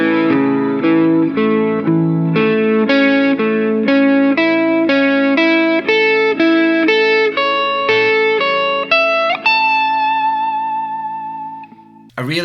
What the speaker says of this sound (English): Now here's what it sounds like if you put all of those shapes together and play it as one big major triad